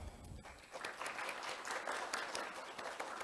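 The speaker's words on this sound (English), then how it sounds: "with a big round of applause" Sustained audience applause greets a speaker's welcome at a formal launch event on restoring degraded lands across Asia, dense steady clapping from a sizable crowd with no voices over it.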